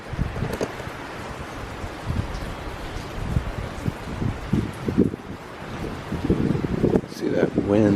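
Gusty outdoor wind buffets the microphone in uneven, rumbling bursts with some rustling, loud and close, while a person talks over it.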